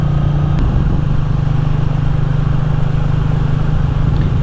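A motorcycle cruises along a road in cold weather with a loud, constant engine drone and a steady low hum that holds without any change in revs.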